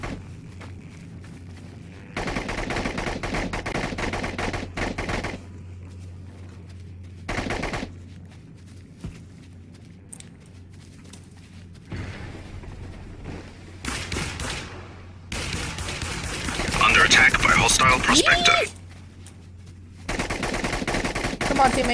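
Bursts of submachine gun fire in the video game The Cycle come in several sharp, loud volleys separated by quieter gaps, with a brief stretch of speech between them.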